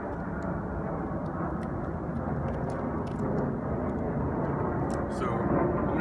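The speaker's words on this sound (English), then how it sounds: "Here comes an airplane, I apologize." An airplane passes overhead as a steady, broad engine roar, loud and unbroken throughout, with faint clicks and handling noises on top and no voices.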